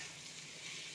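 Mushrooms fry in a pan with a soft, steady sizzle while a utensil stirs them, and a sharp scrape sounds at the very end of the brief moment.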